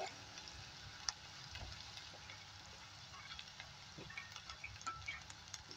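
Finely chopped onions fry in hot oil with a quiet, steady sizzle, scattered small ticks and pops rising through it.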